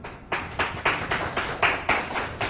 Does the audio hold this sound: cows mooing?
no